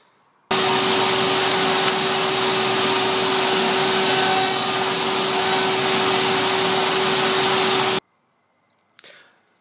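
A power saw cuts through a wooden trim frame set at 45 degrees on a miter gauge. The cut is loud, close and continuous for about seven and a half seconds, then stops abruptly, followed by a brief knock.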